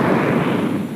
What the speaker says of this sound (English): the sprinkler just hammering the microphone